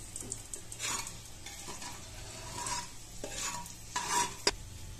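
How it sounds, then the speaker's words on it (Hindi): Dried red chilies and bay leaf sizzling in hot mustard oil for Bengali mutton curry, a close steady crackle with several swells of sizzle and clinks of a stirring spoon against the pan, no voices. "तेल गर्म हो चुका है तो इसमें हम डाल देंगे सूखी लाल मिर्च"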